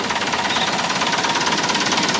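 A new car's engine idles close by with a steady, even rumble and a faint regular knock that holds the same level throughout.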